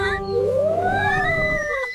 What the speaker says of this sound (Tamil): இங்க பாருங்கள், ஒரு காட்டு பூனை.